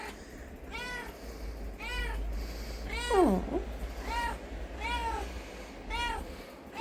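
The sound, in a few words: kittens meowing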